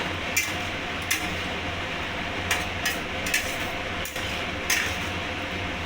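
A snake gourd curry is stirred in a pan, with sparse, light clinks and scrapes of the utensil against the metal over a steady, even background hiss, heard close and with no talking.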